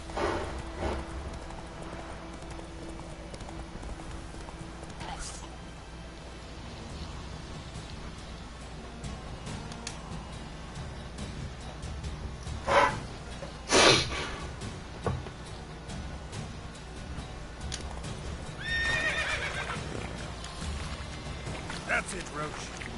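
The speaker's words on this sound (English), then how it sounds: "Pule, galope, Roach." The horse Roach gallops in The Witcher 3 with steady, soft clip-clopping hooves that run throughout. A voice talks over it, with a few sharper bursts and a patter like rain in the background.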